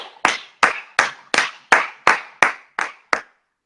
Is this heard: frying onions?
no